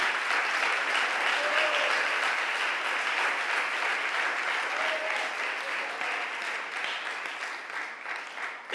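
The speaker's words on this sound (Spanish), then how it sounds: "Dele aplauso al Señor." Church congregation applauding steadily throughout, a dense continuous clatter of many hands at moderate distance, gradually tapering slightly toward the end.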